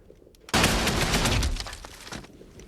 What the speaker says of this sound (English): He shot through the wall.